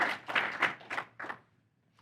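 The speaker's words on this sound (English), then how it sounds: "So let's give mechanical sales a round of applause." A small group claps at a company meeting after the mechanical sales team is recognized, a few close bursts of applause that thin out and fade within about two seconds.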